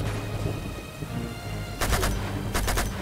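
Gunfire in Uncharted 2: Among Thieves, a long-range gun trading fire with enemy snipers: a steady dull rumble, then two sharp bursts of rapid shots close by, with no talking.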